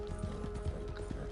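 Horse hooves clip-clopping at a run in Red Dead Redemption 2, a steady rhythmic beat at moderate volume over a low game-ambience hum, with no talking.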